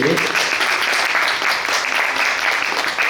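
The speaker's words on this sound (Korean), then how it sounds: "박수한번보내주시고요" Audience applause at a fan meeting, a dense wash of crowd clapping that fills the whole few seconds at a steady level.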